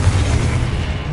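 Confringo, the fire-blast spell in Hogwarts Legacy, bursts as a loud, dense low-frequency boom that roars steadily through the whole brief moment with no voice heard.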